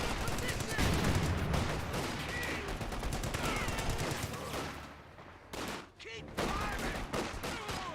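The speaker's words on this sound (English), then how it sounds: "50 cal is hitting them though." .50 cal heavy machine gun rattling in the strategy game Company of Heroes 2, continuous rapid fire under other battle noise and a talking voice, with a brief lull before resuming.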